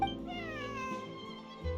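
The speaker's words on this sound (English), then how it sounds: "This is my friend's cat." A cat in the video game Genshin Impact gives one drawn-out, whiny meow, clear and close, with a slightly falling pitch across nearly two seconds.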